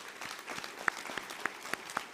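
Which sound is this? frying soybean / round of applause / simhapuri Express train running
round of applause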